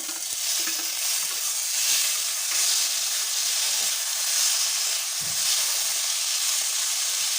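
A tomato goes into a pan of oil-fried potatoes, producing a loud, steady hiss of sizzling oil that swells in soft surges without any voices.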